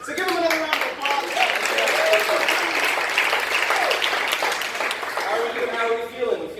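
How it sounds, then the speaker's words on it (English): An audience claps steadily between games at a community event, a dense moderate wash of hands with a few voices threaded through, running continuously and tapering slightly toward the end. "So give him another round of applause."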